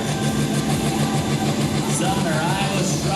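International 1206 tractor engine running at a tractor pull, a loud steady mechanical roar with crowd and announcer noise mixed in throughout.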